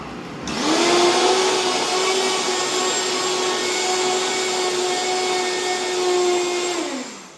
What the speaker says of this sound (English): So I'm gonna blend this and make some noise for you real quick